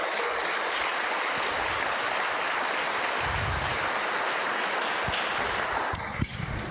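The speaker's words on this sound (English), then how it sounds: "let's give a round of applause for all of our network nominees" Audience applause for nominees at a children's charity gala, a dense, steady roar of many people clapping, loud and sustained throughout before a few sharper sounds near the end, no talking.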